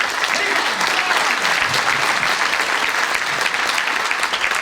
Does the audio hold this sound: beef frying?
no